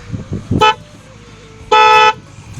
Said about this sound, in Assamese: ইয়াত ক্ৰেটা টাইপ হৰ্ণ লাগি আছে চ' চাউণ্ডটো একচাত শুনাই দিছোঁ